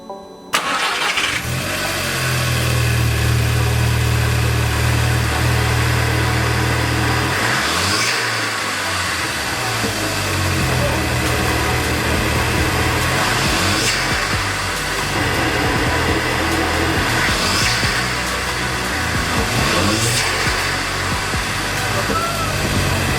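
Scirocco R engine fitted with a RAMAIR intake cranks and catches, then idles loud and close before a few sharp revs rise and fall, with brief talk in the background.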